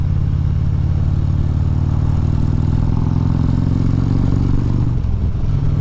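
A 2014 Harley-Davidson Ultra Classic motorcycle engine rumbles steadily while riding, a loud, continuous low throb that shifts in pitch near the end with no talking.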